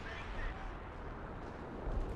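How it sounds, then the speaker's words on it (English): Artillery fire in Company of Heroes 2, shells landing on infantry: low, muffled rumbling booms rolling under a steady roar, with a couple of heavier thumps, faint and distant. "Artillery hitting the infantry section along the flank."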